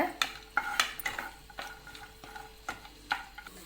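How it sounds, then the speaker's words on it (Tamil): Cashews fry in ghee for wheat halwa while being stirred, giving close, irregular scraping and tapping strokes of a spoon in a pan over a soft background sizzle, with no voices. "இப்போ இது கூட முந்திரியை சேர்த்துக்கிறாங்க முந்திரி நல்லா பொன்னிறமாக வர்ற வரைக்கும் வறுத்துக்கோங்க"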